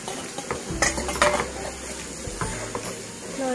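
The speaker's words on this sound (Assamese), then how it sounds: "লৰাই দিছো ভালদৰে" Potatoes being stirred into curd in a pan for an Assamese dahi aloo, with repeated scraping and clinking of a utensil against the metal pan and a faint sizzle, close and moderately loud, no talking.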